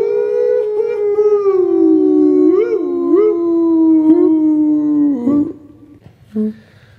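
People imitate a sustained, wavering wolf howl, with a dog joining in, held for several seconds before trailing off, followed by a short yelp.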